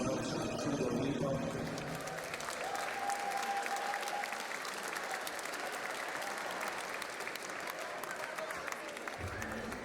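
Parents at a primary school graduation dance event applaud together, a continuous wash of clapping from a large crowd heard at a moderate distance, fading slightly toward the end.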